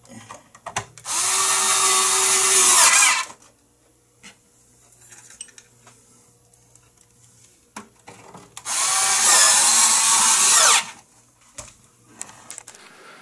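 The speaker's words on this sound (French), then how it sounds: "On va venir visser les côtés." A power screwdriver drives screws into the side panels of an air conditioner during reassembly, two loud sustained whirring bursts separated by a quiet pause filled with faint handling clatter.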